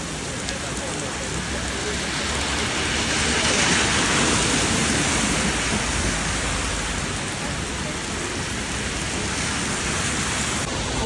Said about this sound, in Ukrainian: дощ не зупиняється. Машини плавають, вода лється.